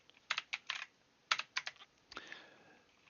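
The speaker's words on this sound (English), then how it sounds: "helps to type correctly" Quick clusters of keystrokes on a computer keyboard, close and crisp, with short pauses between bursts and a longer press near the end, no talk.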